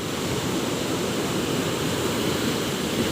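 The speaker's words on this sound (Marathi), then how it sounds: "काय लाटा उसळतात बघा ते खाली" Ocean waves surge on a Konkan beach near Kunkeshwar, a loud, continuous broadband wash of surf with no distinct breaks.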